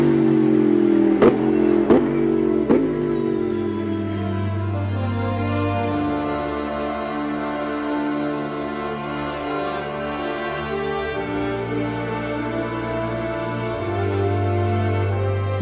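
An Audi R8 LMS Ultra race car engine blips sharply several times, then settles into a deep, rumbling idle with occasional swells of revs.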